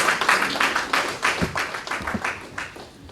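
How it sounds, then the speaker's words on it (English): An audience at an aviation careers conference claps together in a dense, steady round of applause that fades slightly toward the end, with no speech over it. "I think we deserve a round of applause for ourselves"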